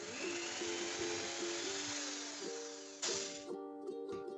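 Power screwdriver driving screws into a handmade wooden box, a steady whining motor with a brief pause and restart, fairly quiet and close, with no talk.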